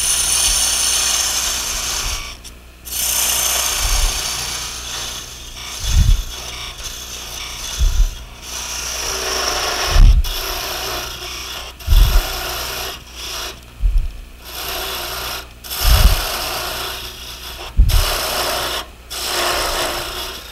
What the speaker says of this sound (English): I think I'm just going to use a parting tool here for just a second.